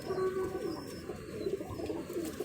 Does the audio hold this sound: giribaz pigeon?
yes